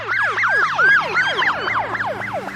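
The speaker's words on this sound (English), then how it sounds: "the Doppler effect of a siren passing you" A wailing emergency siren sweeps up and down in rapid repeating cycles, loud and close, with its pitch shifting as it passes by.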